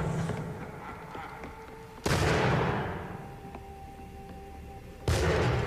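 Two sharp musket shots in Assassin's Creed 3, about three seconds apart, each a loud sudden blast with a long fading echo, over quiet tonal background sound.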